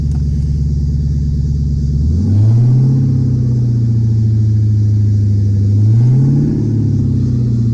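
A Ford Thunderbird engine idles with a deep rumble, then revs up toward about 2,500 RPM twice, each rise swelling and then settling back to a steady elevated drone, close and loud with no talking.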